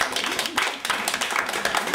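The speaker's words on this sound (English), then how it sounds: "So please let's give her a round of applause." An audience at a Living On Purpose event claps for a presenter, a moderate crowd of hands clapping steadily in a large room, fairly close and continuous through the short stretch.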